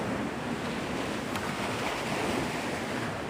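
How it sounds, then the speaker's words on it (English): Surf rolls onto Navarre Beach, Florida in a constant close wash of breaking waves, roughened by wind buffeting the microphone. "This is Navarre Beach."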